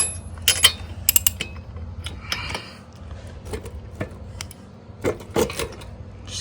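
A socket wrench works loose the spark plug on an old Puch moped, producing close, irregular metallic clicks, ratcheting ticks and scrapes with quiet gaps between them.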